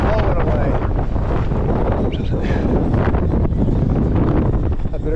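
Strong wind buffets the microphone outdoors during a high-wind flight test of a HoverAir X1 ProMax drone, a loud, continuous roaring rumble with gusty surges that fills the whole stretch.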